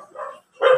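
A Shih Tzu gives two quick, close yips or barks, one after another, loud and brief with a short gap between them.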